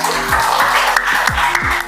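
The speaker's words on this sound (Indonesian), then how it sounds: "Tepuk tangan buat Egy sana, anak" A grade 7 class claps for a classmate during a lesson, a steady, dense patter of hands lasting a couple of seconds while a voice speaks over it.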